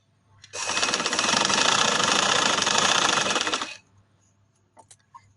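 A sewing machine runs in one steady burst for about three seconds, stitching fabric for a party-wear designer dress, then stops with a few faint clicks and handling noises afterward.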